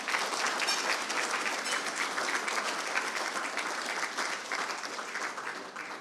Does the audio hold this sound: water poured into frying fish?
no